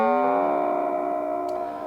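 A sustained metallic, bell-like electronic tone from a Red Panda Radius ring modulator with reverb and delay, clanging inharmonic overtones, held and slowly fading with a reverberant tail.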